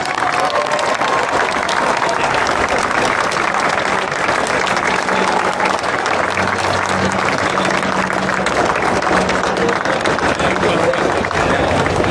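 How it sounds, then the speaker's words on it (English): Loud crowd applause at the 2024 Grand National ceremony at Aintree fills the whole stretch as a steady, dense roar of clapping, with crowd voices mixed beneath it. "A round of applause for Paul Townend."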